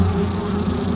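European honeybees imported to Japan give a brief, close, continuous buzzing hum.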